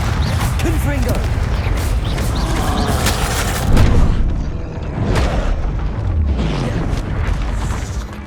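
Confringo blasting spell in the video game Hogwarts Legacy, a dense roar of bursting impacts with one louder boom partway through, under continuous game noise and talk.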